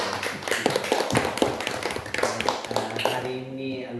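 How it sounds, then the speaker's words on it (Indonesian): A room at an exam-preparation meeting breaks into applause, dense close clapping for a few seconds with voices mixed in near the end. "Kita beri tepuk tangan."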